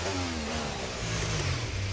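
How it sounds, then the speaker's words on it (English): An F1 24 race car's engine idles at Imola in a racing game, a steady, fairly loud buzzing drone with slight pitch wobble, alone and unbroken. "the engine's actually kind of loud when it's at idle"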